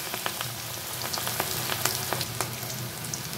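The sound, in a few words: pakora frying in hot oil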